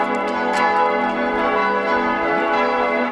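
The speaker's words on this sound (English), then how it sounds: "the bells that were ringing every hour were also the bells that were in The Sound of Music" Church bells in Salzburg ringing the hour, several bells pealing together with rich overlapping tones, loud and close, sounding continuously without talk.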